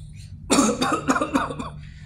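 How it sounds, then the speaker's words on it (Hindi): A single forceful cough bursts out after a short silence, followed by a few rougher throat-clearing coughs, close and loud. "आप पूरा सांस अंदर खींचें और फिर जो फोर्स से बाहर निकालें और खांसी करें"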